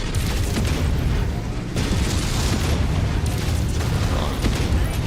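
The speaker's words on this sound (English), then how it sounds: "Ammo explosion detected." Ammo explosion in the mech combat game MechWarrior 5: Mercenaries, a dense, loud rumbling blast with sustained booming roar that carries steadily through the whole stretch, with a brief dip partway through.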